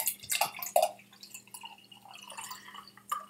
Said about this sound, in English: Let's put the water in the glass.